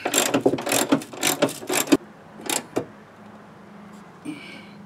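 A hand ratchet tightens fog light bracket bolts on a GMT800 truck, a quick run of close clicking strokes followed by a few slower clicks, then quiet.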